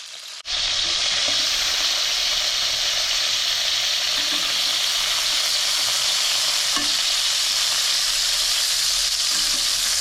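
Crab pieces fry in hot oil for a Bengali crab curry, making a constant, close sizzle with faint stirring scrapes and no voices, starting abruptly after a brief silence.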